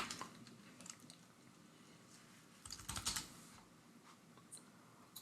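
Someone types on a computer keyboard, a faint, quiet patter of key clicks that comes in short, uneven bursts, heaviest near the middle.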